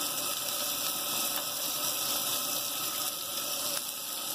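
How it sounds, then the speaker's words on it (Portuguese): Bacon sizzles in a pan as its fat renders, a dense, even, continuous hiss heard up close with no speech. "Vamos começar pelo bacon, pra ele soltar aquela gordurinha maravilhosa."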